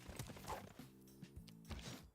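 Cavalry horses in Civilization VI move with a faint clip-clop of hooves and sustained tonal sound effects, quiet and close.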